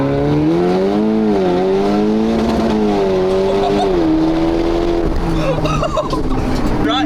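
Slammed Audi Q7 with Haldex all-wheel drive launching hard, its engine note rising steadily and loudly up close, with people talking over the sustained pull.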